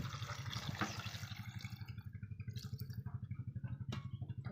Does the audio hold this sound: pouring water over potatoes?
yes